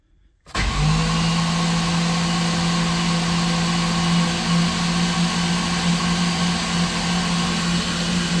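A built Ford SVT Cobra engine cranking over in neutral with the clutch in, a steady close whirring drone that starts abruptly and holds without firing.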